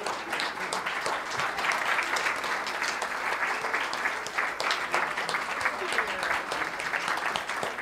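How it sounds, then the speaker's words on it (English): Sustained audience applause fills a church's Sunday celebration service, dense steady clapping from a large congregation at close range, with some voices mixed in. "Keep clapping"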